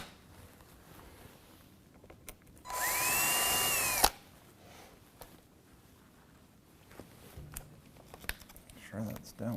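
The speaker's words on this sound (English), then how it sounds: "I always like to pre-drill my holes, probably not necessary since this is a vinyl window." A drill pre-drills holes in a vinyl window frame with a single loud, steady whirring burst of about a second and a half that winds down at the end, surrounded by quiet handling noises and faint talk.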